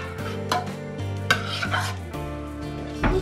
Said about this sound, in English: Stir the cheese in.